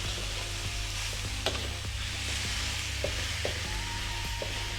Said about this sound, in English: in with the pork, turn up your heat, because now we're going to seal the pork